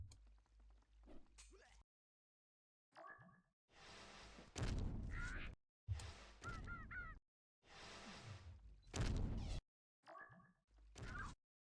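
Large flapping birds in the fantasy strategy game Magic and Mayhem give loud, repeated honking calls in several separate bursts, with short silent gaps between them and no talk.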